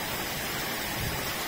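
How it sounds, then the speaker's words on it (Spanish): Heavy tropical rain pours steadily at Bacalar lagoon in Mexico, a dense, even hiss of falling water that fills the whole moment with no other sounds. "La lluvia tropical."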